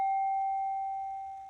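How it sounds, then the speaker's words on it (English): A single bell struck during a tarot reading gives a clear, pure sustained ring that slowly fades over a quiet background, heard alone without talk. "Let's ring the bell on that."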